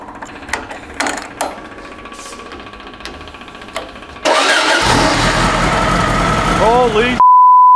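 A custom VW engine built for a mini overland vehicle cranks and catches, going from quiet clicks and shuffling to a sudden loud, steady running roar that carries on close by until the end.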